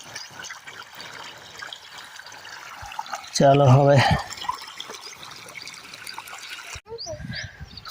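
Irrigation water rushes and trickles in a steady flow across a village farm field, with a brief loud voice cutting in midway.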